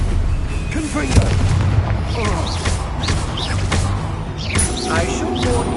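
In Hogwarts Legacy, Confringo spells burst as booming explosions amid dense combat noise, several thudding blasts and crackling impacts mixed with game voices talking over the fight.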